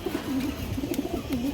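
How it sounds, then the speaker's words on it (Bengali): A male Bagha pigeon coos in repeated low, throaty rolling calls close by, several in quick succession over a faint background hiss. "এটা নর কবুতরটা।"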